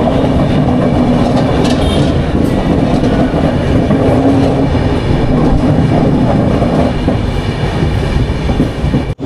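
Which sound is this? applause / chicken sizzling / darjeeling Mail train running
darjeeling Mail train running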